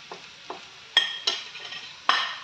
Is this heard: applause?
no